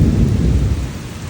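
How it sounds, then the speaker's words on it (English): Loud, deep thunder rolls through a night thunderstorm in Indianapolis, a heavy rumble over steady rain that slowly fades across the short stretch, with no voices. "Good thunder right there."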